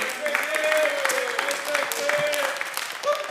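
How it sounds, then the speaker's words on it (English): An audience applauds steadily for about three seconds at a church production camera-training night, with a faint voice or tone running underneath the clapping. "Give Nate a round of applause."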